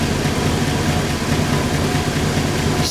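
A 1958 Buick Century with a 364 cubic inch V8 idles steadily, a smooth low rumble heard from close by inside the car, constant and even throughout.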